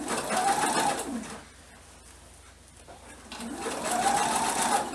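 A sewing machine stitches the gusset seam of a cushion cover for a foam cushion in two steady, close runs of rapid whirring stitching, separated by a short pause.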